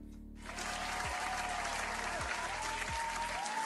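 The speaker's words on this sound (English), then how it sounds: "there's a reason your applause are generated and not real" Generated applause sound effect plays on a livestream, entering abruptly after a brief lull and then holding as a thick, continuous crowd clapping over faint low tonal sounds, steady and loud to the end.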